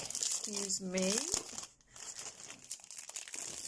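Crinkling plastic wrap being pulled off a plain silver tin of coloured pencils, close and rustly throughout, with a person speaking briefly over the crackle.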